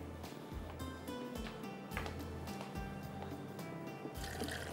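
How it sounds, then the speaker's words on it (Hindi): Water is poured onto chopped tomatoes in a kitchen grinder jar before grinding. A continuous splashing trickle runs throughout over low background hum, with a few clunks of the jar, and no speech. "यहाँ पर मैंने डाले हैं टमाटर, उसके अंदर डालेंगे थोड़ा सा पानी।"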